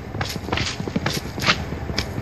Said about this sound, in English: let's get out my horse